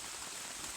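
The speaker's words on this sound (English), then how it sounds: "It's raining a lot." Rain falling at an autumn campsite, a steady dense hiss of drops pattering on surfaces, close and even with no voices.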